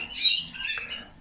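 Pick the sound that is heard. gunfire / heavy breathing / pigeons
pigeons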